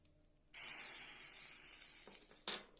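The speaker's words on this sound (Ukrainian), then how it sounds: "Не, тут шкварчать." Wafer-roll batter hits a hot pan with a sudden loud sizzle that hisses steadily, with a brief extra crackle near the end.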